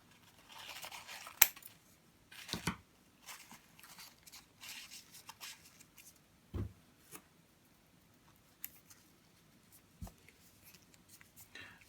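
Scissors snipping through masking tape while a collectible bust is assembled on a plinth, a few sharp close cuts and tape rustles separated by quiet pauses.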